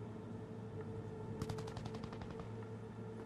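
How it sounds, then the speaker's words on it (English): A quick burst of about a dozen sharp gunshots in the game Cyberpunk 2077 rattles off in rapid succession, fairly faint and distant over a low steady hum. "Gunshots."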